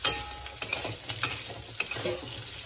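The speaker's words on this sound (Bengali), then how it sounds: "আলুটা ভাজা হচ্ছে, এর মধ্যে আমি অল্প করে হলুদ, একটু হলুদ আর অল্প লবণ দিয়ে দেবো" Potatoes fry in a pan with turmeric and salt while a utensil stirs them, giving irregular scraping clinks and knocks over a soft, steady sizzle.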